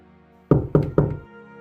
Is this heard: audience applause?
no